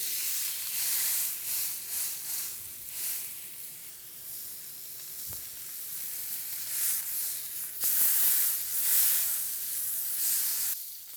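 Beef sears in a hot pan for a Beef Wellington, giving a steady loud sizzle and hiss with bursts of spitting fat. The noise swells and fades over several seconds, with a couple of sharp clunks, and no talking.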